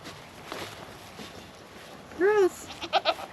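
Dairy goats in a barn let out a clear, close bleat followed by a few shorter quavering calls, with faint background rustling and a voice murmuring softly earlier.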